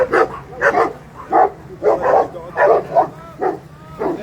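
Dogs on a farm bark repeatedly in a rapid, uneven series of loud, close woofs, with some higher yips mixed in.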